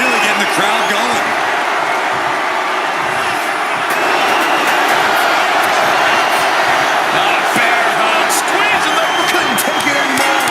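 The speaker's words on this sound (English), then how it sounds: "Mark is really getting the crowd going" A WWE 2K25 SmackDown wrestling arena crowd roars continuously as a wrestler works them up, producing a dense, loud wash of cheering with sharp thuds and impacts scattered through it.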